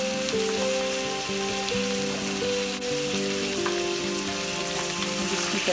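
Mutton fries in a handi with kasuri methi during bhunai, a loud dense sizzle that holds steady and close for the whole stretch, with no voices over it.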